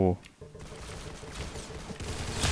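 Rapid gunfire from a new gun in a video game, bursts of close, punchy shots in quick succession, with a voice talking briefly at the start.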